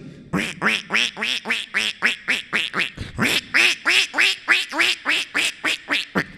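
A mimicry performer imitates a duck entering water, producing a long, steady run of loud, nasal quacks in quick rhythm with no other sounds.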